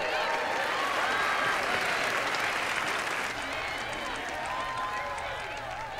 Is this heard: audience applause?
yes